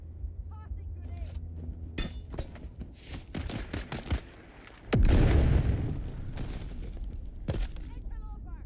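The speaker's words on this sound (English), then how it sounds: "Tossing grenade." A grenade blast in the video game Dune: Awakening goes off as a loud, close boom with a long rumbling tail. It is surrounded by scattered gunfire-like cracks and game effects, and someone talks at times.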